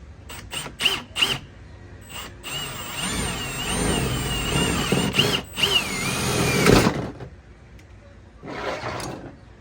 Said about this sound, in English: I'm going to drill a hole and then throw this clip in there.